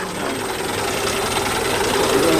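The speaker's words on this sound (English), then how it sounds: "Engines running on the Great War era Sunbeam." Great War era Sunbeam car engine running steadily with a broadband mechanical rumble and a faint whine, constant and fairly close, no voices.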